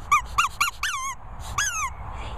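A squeaky dog toy being squeezed during play with a Corgi and a Bichon Frise, giving a run of about five sharp, close squeaks in quick succession, the later ones longer and bending in pitch.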